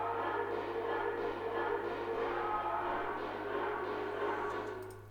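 Chopped dark, gritty sample drenched in wet reverb with a short decay like a closed room, a dense murky wash over a steady low hum that fades slightly at the end, with no talking.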